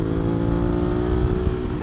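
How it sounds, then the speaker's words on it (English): A 2019 Suzuki V-Strom 650 motorcycle with a non-stock exhaust holds high revs, a steady, buzzing, yell-like engine tone. It is loud and close, with no talking. "From the higher revs, it kind of just sounds like a yell"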